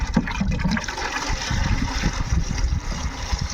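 Water pours steadily into a container while a farm mixture is being topped up, a continuous splashing gush with a hollow, churning tone that runs the full few seconds without pause.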